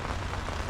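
Heavy rain falls on a moored sailboat in Road Town's inner harbour during a thunderstorm, a brief steady patter and hiss on the surface with no thunder or voices.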